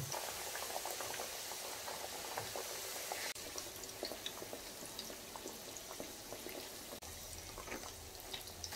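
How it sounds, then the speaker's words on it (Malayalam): Kabab cutlets fry in oil over a slow flame, giving a continuous soft, dense sizzle and bubbling that stays steady throughout, with faint crackles and no talk. "നമ്മൾ ബാക്കി വന്ന ഈ കട്ട്ലറ്റും കൂടി എണ്ണയിലേക്ക് ഇട്ട് കൊടുക്കുന്നു"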